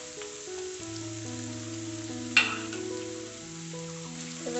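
Chopped onion and chilli frying in a pan give a soft, steady sizzle, faint beneath sustained background music, with one brief clatter midway.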